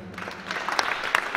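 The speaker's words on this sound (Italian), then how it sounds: "faccio un applauso" Audience clapping at a literary award ceremony in San Giovanni in Fiore, a short burst of scattered hand claps of moderate loudness.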